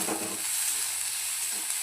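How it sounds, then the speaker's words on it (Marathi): Steady hissing sizzle of vegetables frying in oil with salt, with a low stirring scrape near the start and end. "थोडंसं तेलामध्ये परतून घेऊया."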